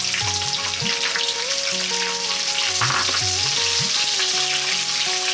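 Chopped onion hitting hot oil for a vegetable biryani, a loud continuous sizzle up close, with tonal hum from a kitchen appliance running underneath and no one talking.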